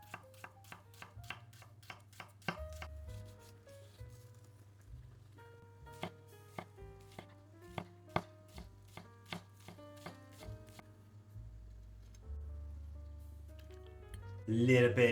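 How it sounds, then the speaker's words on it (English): A knife chops shallot on a cutting board in crisp, evenly spaced strokes close by, with a low steady hum in the background. "Then we're going to finally chop some shallot."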